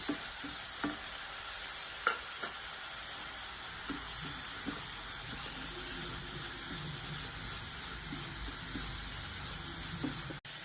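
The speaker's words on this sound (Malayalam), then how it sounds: "ഇഞ്ചി വെളുത്തുള്ളി പച്ചമുളക് ചാത്തതും കൂടി ഇട്ടിട്ട് കുറച്ച് നന്നായിട്ട് വഴറ്റിയെടുക്കാം" Onion, ginger, garlic and green chili sauté in a pan with a soft continuous sizzle and hiss, punctuated by occasional spatula knocks and scrapes, fairly quiet and without speech.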